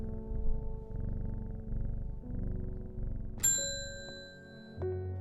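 A cat in the video game Strange Horticulture purrs in slow, rhythmic low pulses while being petted, followed by a bright chime and a second soft ding.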